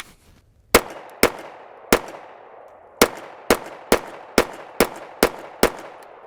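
Pistol shots at shooting practice with a truck gun, ten sharp loud reports, one alone, a short pause, then a rapid string of nine at roughly half-second intervals, each ringing briefly.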